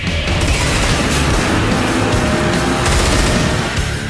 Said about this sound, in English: The submachine gun has a higher rate of fire, but shoots in limited bursts, followed by a short pause between rounds